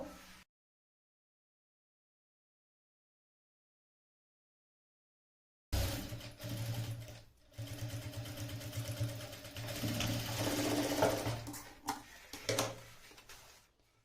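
A sewing machine stitches a folded blouse-piece fabric seam for a sling bag, its motor humming steadily for several seconds after a long silent stretch, with brief pauses and bursts.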